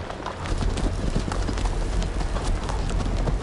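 Horse hooves clip-clopping in a steady, dense run, loud and close, with a brief whinny hinted amid the noisy outdoor rumble.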